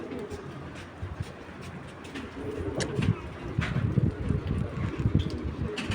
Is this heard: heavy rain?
no